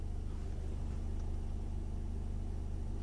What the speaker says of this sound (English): I think you can hear the engine.